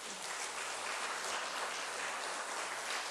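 A church congregation at a Sunday service claps to congratulate a baptism, a steady, dense wash of applause filling the room with no voices over it.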